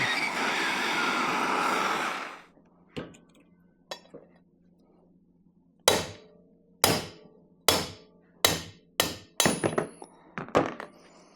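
Hammer blows drive a socket down onto a bearing race in warmed two-stroke engine cases for a YZ144 bottom end rebuild, about eight sharp metallic thunks, close and loud, speeding up toward the end after a burst of hiss at the start.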